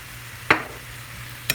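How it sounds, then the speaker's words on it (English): A spoon scrapes twice through food in a pan seasoned with thyme, pepper and salt. The two short, close scrapes sit on a quiet background with no talking. "And give that a stir."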